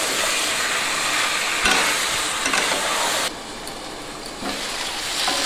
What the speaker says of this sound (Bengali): আলুটা দিয়ে ভালো করে আমি কষিয়ে নেব চাপা দিয়ে দিয়ে এইভাবে কষাবেন